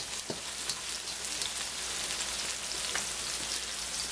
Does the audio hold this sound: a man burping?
no